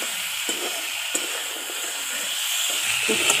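Potatoes, onion, ginger, garlic and tomato being sautéed in a pan for a Bengali bottle gourd and prawn dish make a continuous hissing sizzle, broken by several sharp clicks of a spatula stirring against the pan.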